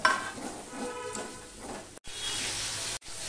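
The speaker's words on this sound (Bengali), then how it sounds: "এই যে চালটা মশলার সাথে কষানো হবে" Rice stir-fried with spices in a pan while cooking a vegetarian Bengali spiny gourd ghonto: a continuous broadband sizzle with stirring, cut by two brief pauses and no talking.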